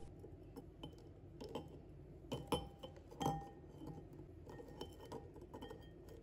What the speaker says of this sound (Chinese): 首先我们先准备8个鸡蛋，把它放入盆中